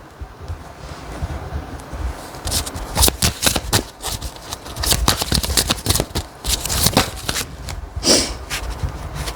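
Tarot cards being shuffled and handled during a reading, with close, crisp riffling and papery slaps in irregular bursts over a soft rustling background.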